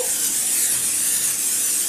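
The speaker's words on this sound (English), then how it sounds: "we'll go ahead and grease the dish with some cooking spray" Cooking spray hisses steadily onto a baking dish being greased for a chicken breast tender bake, a close, continuous aerosol spray lasting the whole moment with no talk.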